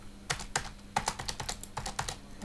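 Rapid typing on a computer keyboard while writing HTML heading tags, with irregular clicks of keys close and clear, a dozen or so strokes in quick uneven bursts, no voices.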